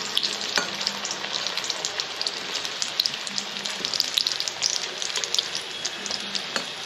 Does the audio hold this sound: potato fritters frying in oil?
yes